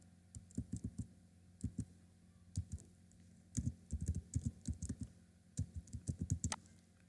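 Someone types a website address on a computer keyboard, with quick bursts of close, crisp key clicks in irregular clusters over a quiet background hum.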